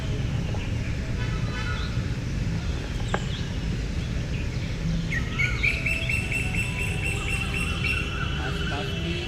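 Birds chirp and tweet in a garden during an early-morning yoga session, small bright calls scattered across a steady low hum of distant traffic.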